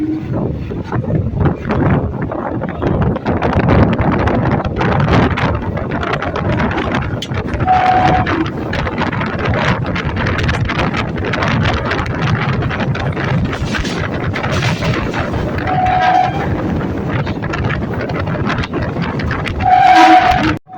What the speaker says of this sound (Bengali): ফাইনালি আমাদের নতুন পার্পেল আইসিএফ ছেড়ে দিল বারাসাত জাংশন থেকে